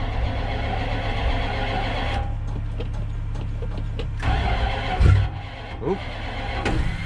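A Ford Mustang circle track race car cranking over on a cold start, with a whirring, mechanical churn under the hood that rises and dips without catching, and some talk nearby.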